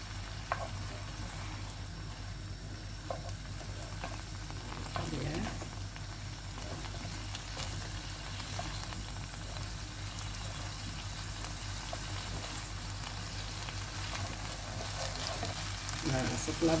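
Wild garlic, taucho and shrimp stir-fry in a pan with a steady low sizzle and faint utensil scrapes, soft and continuous.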